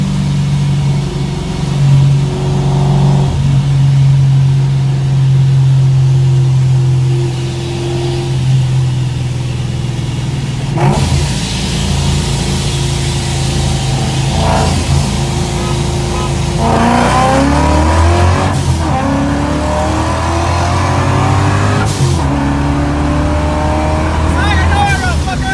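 Ford Mustang and Corvette launch side by side in a street race, engines droning and rising in pitch through several gear changes, loud and steady with voices talking over the roar.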